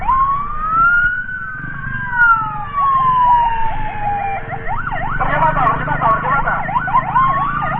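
Mitra Medika emergency ambulance siren wailing loudly and close, sweeping in long slow rises and falls before switching to a rapid yelp pattern, with traffic rumble underneath and a voice speaking briefly over it.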